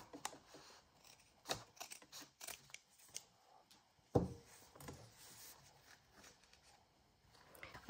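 Quiet scissors snipping through paper during a craft project, a series of short crisp cuts with one louder snip, mixed with soft handling rustles and low talk.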